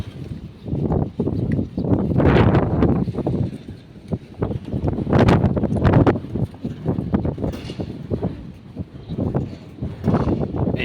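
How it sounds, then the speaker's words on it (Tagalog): Strong wind gusting across an open fishing spot, roaring in broad swells that rise and fall continuously over the whole stretch, loud and close with buffeting on the microphone. "sobrang lakas ng hangin"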